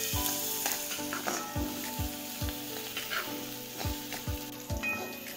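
Spices with red chili powder sautéing in a pan for aloo methi paratha, a low steady sizzle punctuated by regular clinking strikes of a spatula against the pan, close and without speech.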